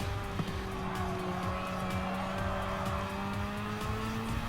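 A Mazda RX-7 racing in the Gran Turismo 7 video game, its engine droning in steady rising and falling pitch, fairly quiet and continuous for a few seconds with no talk.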